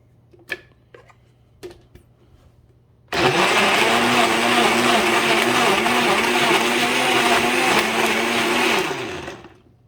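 A Walmart Mainstays 6-speed blender roars to life after a few clicks and churns an apple, a loud, steady whirring drone that holds for several seconds, then winds down at the end, with no talking.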